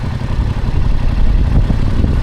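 Yamaha MT-07 motorcycle engine idling up close, a loud, steady low rumble with a slight mechanical clatter and no talking.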